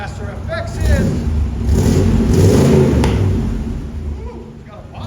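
A 1985 Chevy K5 Blazer Z/71 with a 5.7L V8 and Flowmaster FX exhaust revs loudly, rising and falling in a single long throttle blip with rough exhaust rumble; a voice speaks briefly near the start.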